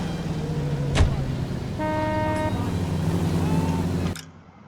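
In the 1940s Los Angeles crime game L.A. Noire, a car door thuds shut and the engine settles into a steady idle hum with brief mechanical whirring, then cuts off abruptly into near silence.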